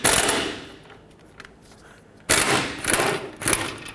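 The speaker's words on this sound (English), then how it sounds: "I'm going to do this one with my air gun" An air impact gun rattles in sharp bursts on an 18mm bolt during rear backing plate work on a 2003-2021 Chevrolet Express 3500 van: one loud burst, a quiet pause, then two more close hammering runs.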